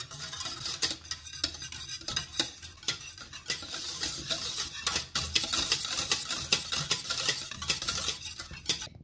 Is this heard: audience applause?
no